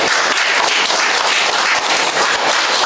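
Audience applause at a mayoral candidacy press conference, a loud, continuous wash of clapping from a crowd lasting about three seconds.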